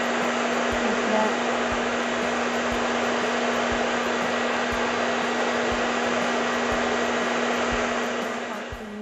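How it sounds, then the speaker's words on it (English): A blower drying a make-up brush roars as a steady, loud, broadband whoosh with a constant hum for nine seconds, easing off slightly at the very end, with no voices over it. "I will continue later the drying with my blower because it's too noisy"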